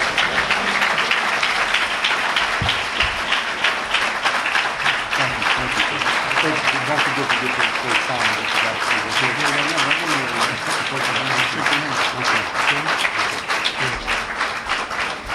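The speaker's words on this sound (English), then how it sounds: "Let's give Brother Akbar another well-deserved round of applause for his presentation." Sustained audience applause after a lecture presentation, a dense continuous wash of many hands clapping that stays loud and steady for the full length, with faint voices underneath.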